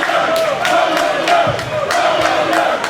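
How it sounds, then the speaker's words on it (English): A fired-up crowd at a live Staten Island independent wrestling event cheers and shouts in loud, dense waves, with rhythmic chant-like bursts running throughout. "Staten Island crowd's fired up here."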